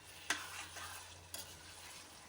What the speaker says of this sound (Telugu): ఇప్పుడు ఇందులోకి టమాటాలు కూడా వేసుకొని ఒకసారి కలిపేసి